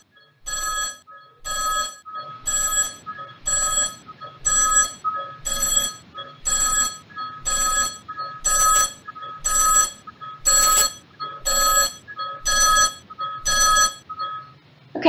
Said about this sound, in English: Phone is getting louder